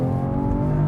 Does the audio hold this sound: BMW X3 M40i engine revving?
yes